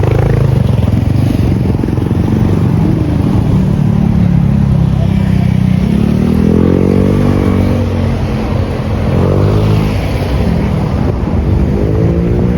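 Motorcycles rumble past continuously, engines swelling and fading as they go by, with steady traffic noise filling the background.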